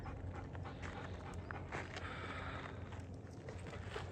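A dog pants in quick, steady breaths close to the microphone, over constant low wind or background rumble outdoors.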